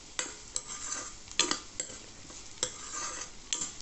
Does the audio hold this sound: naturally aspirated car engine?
no